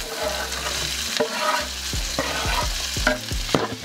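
Chopped onion and green chillies sauté in a hot pan for a fish meal, with a steady broadband sizzle and repeated sharp spatula scrapes and knocks against the pan in an irregular rhythm, close and fairly loud, no talking.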